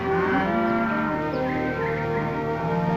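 Fat range cattle grazing in a river valley moo in several long, overlapping low calls, near and steady, with faint bird chirps behind them.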